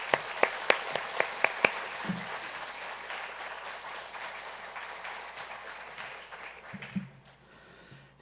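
A church congregation applauds to welcome a visiting pastor, beginning with a few sharp distinct claps that swell into a softer, moderately distant wash of clapping, which fades out gradually.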